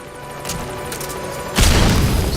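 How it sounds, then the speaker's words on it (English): A stun grenade goes off in Metal Gear Solid 5 gameplay, a sudden loud booming burst that follows a steady low game ambience and rumbles on to the end. "We'll go ahead and use a stun grenade to take him out."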